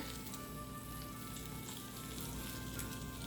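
Arayes stuffed with raw meat frying in a pan, giving a steady, dense sizzle that holds even throughout with no talking.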